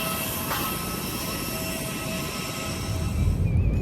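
Airplane at Langkawi airport, surrounded by hills, with a steady engine roar and high whine that builds slightly louder toward the end, no voices over it.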